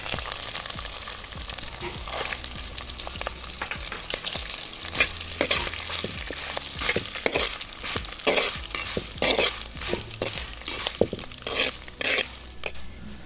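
Peeled garlic cloves and lentils frying in a pan, a continuous close sizzle broken by frequent scraping stirs and clinks of a spatula against the pan, busy and fairly loud throughout.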